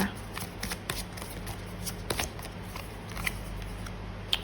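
Tarot cards are shuffled and drawn close up, with soft repeated riffles, flicks and slides of the deck at a quiet level.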